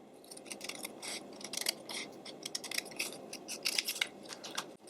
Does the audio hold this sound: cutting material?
yes